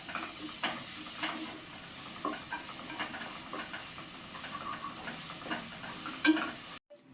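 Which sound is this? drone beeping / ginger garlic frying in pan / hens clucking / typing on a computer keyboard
ginger garlic frying in pan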